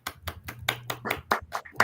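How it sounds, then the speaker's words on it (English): Hand claps in a quick, uneven series of about eight sharp slaps, close and fairly loud, with a faint hum underneath. "That gets a clap."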